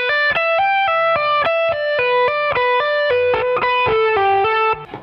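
Heavily distorted electric guitar runs through a full rock lick descending across string pairs, a long steady stream of picked and pulled-off notes, loud and close for about five seconds before cutting off, no talking.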